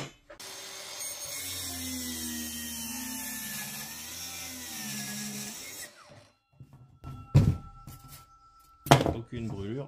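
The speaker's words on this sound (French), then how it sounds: "on va faire les coupes avec du Bosch et ensuite avec le Parkside. Dans du frêne qui fait d'épaisseur 35" Cordless Bosch GKT 18V-52 circular saw with a 140 mm Bosch blade cutting through 35 mm thick ash: a steady loud whining cut of about six seconds, then the motor winds down, followed by a few sharp knocks and handling thuds.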